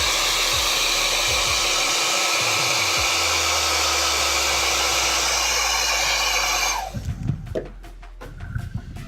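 A hair dryer blows loudly and steadily over a brush for most of the clip, then cuts off abruptly, leaving a few soft knocks and rustles.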